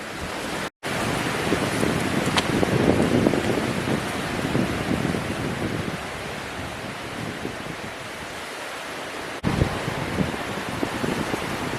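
Strong wind gusting steadily across an exposed hillside a couple of hundred metres above a lake, a loud continuous roaring rush with buffeting surges, no talking.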